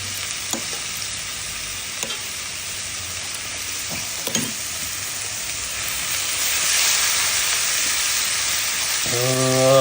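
Garlic goes into a ghee-based fatteh sauce, and a steady close sizzle swells louder and hissier, with a few sharp clinks of a utensil early on and a brief hum entering at the very end.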